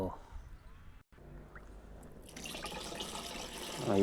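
Water splashes and trickles into a pesticide sprayer pump tank, with a short pause, then a louder pour near the end; voices can be heard talking.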